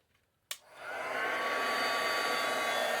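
A heat tool switches on with a sharp click, then blows a steady, loud, continuous whoosh to heat-set stamped ink on an autumn mixed-media tag, the hum holding even to the end.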